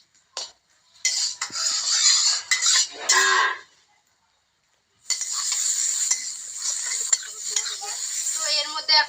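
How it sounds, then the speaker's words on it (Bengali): Metal lid lifted off a cooking pot during village-style fish curry with taro, giving two close bursts of clattering, scraping metal, a pause of silence, then further rattling and scraping. "এখন আমি ঢাকনাটা উঠিয়ে নেব"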